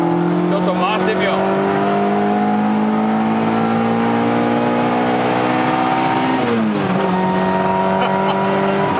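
A Toyota AE86 race car drives Tsukuba Circuit with a loud engine drone heard from inside the cabin, holding a steady pitch that climbs slowly, then drops and recovers briefly at a gear change.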